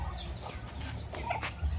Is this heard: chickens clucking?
yes